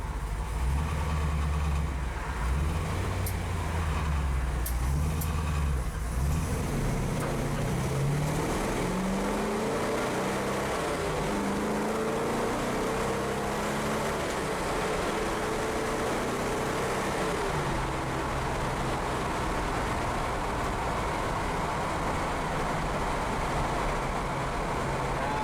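A 1959 Chevrolet Biscayne fitted with a disc brake conversion is driven out toward a main road, its engine droning steadily with a rising and falling pitch as it accelerates, continuous and fairly close throughout.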